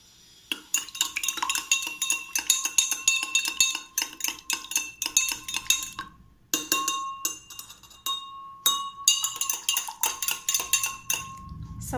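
A spoon stirs powder into water in a glass during a classroom experiment, clinking rapidly and steadily against the glass, with short pauses around the middle before the ringing taps resume.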